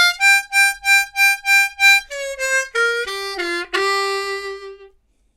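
Solo harmonica plays a blues phrase from a song: a run of evenly repeated bright notes, then a descending line of bent, sliding notes, close and clear with no talking.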